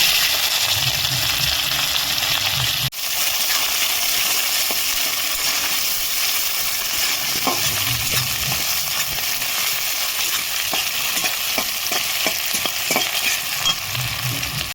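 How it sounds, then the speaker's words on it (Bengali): Chopped onions fry in hot oil for a chicken curry, already seasoned with garam masala and bay leaf, giving a steady close sizzle broken by the clinks and scrapes of stirring. "পিঁয়াজটা লাল লাল করে ভেজে নিতে হবে।"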